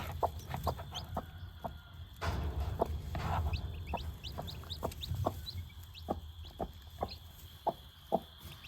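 A hen clucks softly in a backyard nest beside her newly hatched chicks, while high, thin peeps from the chicks repeat throughout. Brief rustling and low murmurs mix in, and a person speaks faintly in the background.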